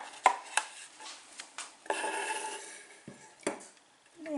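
A spoon scrapes and taps inside a glass jar while ginger, honey and lemon are added, giving a run of light clinks and scraping rubs close by with short gaps between them.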